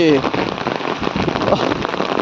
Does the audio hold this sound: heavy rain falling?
yes